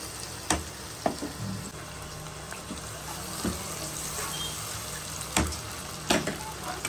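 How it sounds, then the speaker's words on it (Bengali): Onions and tomatoes frying together in a pan give a low, steady sizzle with a few sharp stirring knocks against the pan, fairly quiet and without talk. "পেঁয়াজ টমেটো একসঙ্গে ভেজে নেব।"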